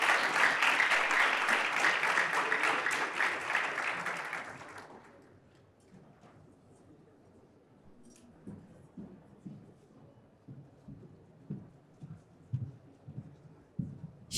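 Audience applause welcoming a speaker to the stage at a finance careers event, loud sustained clapping for about five seconds that cuts off, followed by quiet room noise and faint footsteps or shuffling.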